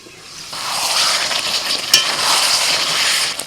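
Marinated chicken being stirred and sautéed over a medium flame sizzles loudly and continuously, with scraping stir sounds and a sharp utensil knock partway through.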